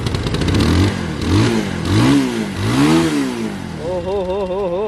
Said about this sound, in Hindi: बहुत ही प्यारा वाला आवाज़ आ रहा है एग्जॉस्ट में से